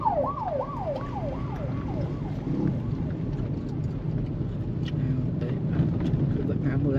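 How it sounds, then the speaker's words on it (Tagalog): An ambulance siren wails, sweeping up and down rapidly, then fades into the distance under steady traffic noise and a voice talking, on a road in Cebu, Philippines. "Lubat na ambulansya."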